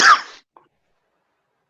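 A single sharp cough bursts out up close, followed by a tiny click and then silence.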